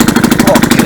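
A small engine runs with a fast, even chugging pulse after its carburetor clears, loud and close, holding steady throughout.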